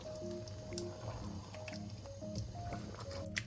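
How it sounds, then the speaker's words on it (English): Coconut cream with tapioca pearls for Ginataang Bilo Bilo simmers softly in a pot, faint wet bubbling and squishy pops under a low hum, close and quiet. "We're just gonna let this simmer for 2 to 3 minutes for all the ingredients to absorb the coconut flavor."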